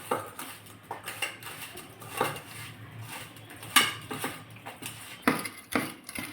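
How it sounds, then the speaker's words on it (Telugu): A spoon clinks and scrapes against a bowl as chicken leg pieces are mixed with salt and ginger-garlic paste. The taps are irregular and fairly quiet, and there is no talk. "ఇప్పుడు బాగా కలుపుకునేద్దాం."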